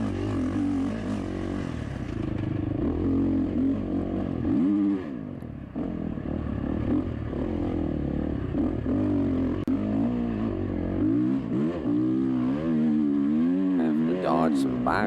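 Dirt bike engines whine and rev in the motocross video game MSXC Battlegrounds, pitch rising and falling continuously through the whole stretch, with brief drops and surges as the bikes accelerate.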